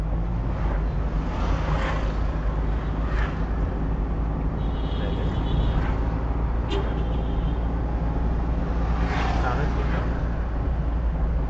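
A driving-school car's engine rumbles steadily at close range as the accelerator is pressed and released, with an instructor's voice talking over the constant motor noise.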